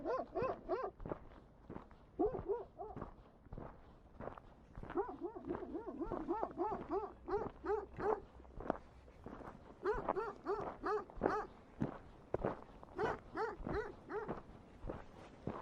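Several livestock guardian dogs (patous) bark repeatedly, close by and loud, in bursts with short gaps on a mountain hiking trail near a sheep flock, with some shuffling footsteps underneath.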